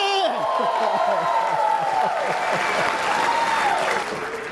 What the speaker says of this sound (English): give yourselves a big round of applause for being here